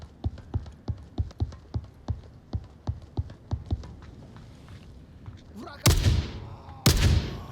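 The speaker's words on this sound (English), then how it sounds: "I do love the Spaz 12 in this" Spaz 12 shotgun shots in a VR shooter game: a steady run of about a dozen sharp, evenly spaced reports, followed by two louder, heavier blasts after a short pause.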